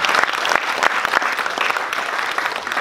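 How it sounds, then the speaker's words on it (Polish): Audience at a gala marking 20 years of the Victoria folk cycling club in Głuchołazy applauds, a steady, dense wash of many hands clapping close by with a few sharper claps standing out, and no voices over it. "wielkie brawa dla Państwa"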